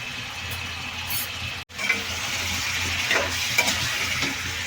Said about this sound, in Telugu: ముందే చికెన్ వేసుకుంటున్నానండి, కొంచెం చికెన్ వేగిన తర్వాత అప్పుడు ఉల్లిపాయలు వేసుకుందాం.